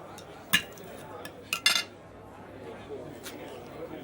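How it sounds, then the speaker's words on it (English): A few sharp clinks and clacks of cutlery on plates, spaced irregularly over a low murmur of room chatter. "the scuffle and clack of her cutlery send out signals not difficult to interpret"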